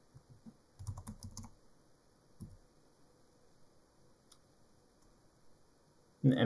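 Computer keyboard keys are tapped in short bursts of quick clicks while code is written, with scattered single taps and quiet pauses between, close and fairly soft, ending in a louder handling noise.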